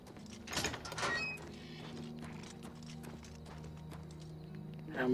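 Horse hooves in Oblivion Remastered, a few clip-clop steps and thuds near the start, then quieter movement over a low steady game ambience.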